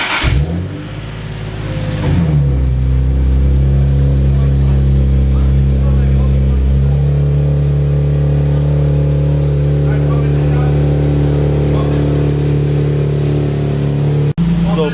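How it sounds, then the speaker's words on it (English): A car engine cranks and catches, then settles into a steady, loud idle in a workshop during a brake kit install and brake bleeding, ending with a brief sharp click. "So we're gonna start the car."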